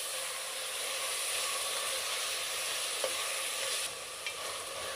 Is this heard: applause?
no